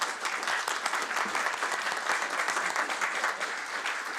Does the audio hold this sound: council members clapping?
yes